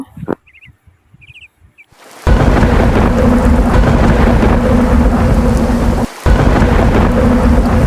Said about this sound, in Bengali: সোনুরাজের বাড়ি ফেরার আগেই বজ্র বৃষ্টি শুরু হয়ে গেছে